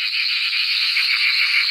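Eastern sedge frogs, Litoria fallax, calling at a pond as a dense, continuous high-pitched chorus with no pauses, steady and fairly loud.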